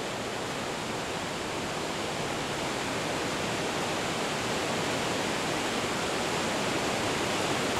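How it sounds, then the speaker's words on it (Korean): Victoria Falls roaring at close range near Danger Point, a dense, steady, broadband rush of falling water, loud and unbroken without voices. "빅토리아 폭포를 가장 가까이서 볼 수 있는 것이 데인저 포인트다."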